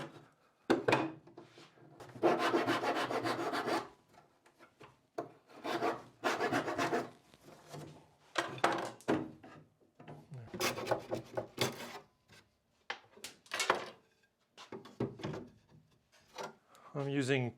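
A maple bar is trimmed by hand to fit a dresser under repair, with close, repeated rasping strokes in short bursts separated by pauses.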